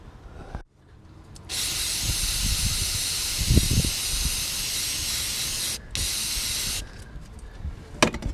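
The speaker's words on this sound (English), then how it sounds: "Maybe spray it with the brake parts cleaner." Brake parts cleaner sprays onto the turbocharger outlet of a BMW F30 328i in a long, loud, close hiss, cut briefly once, framed by faint clicks and handling noises and no speech.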